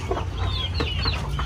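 Rhode Island hens clucking in a backyard flock, several short rising calls and soft clucks close by over a low steady background hum.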